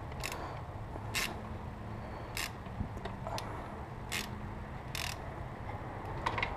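A boost hose clamp on a 2014 Subaru WRX being tightened with a hand tool, several short, spaced ratcheting clicks in a quiet garage.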